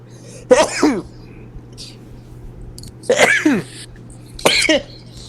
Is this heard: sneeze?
yes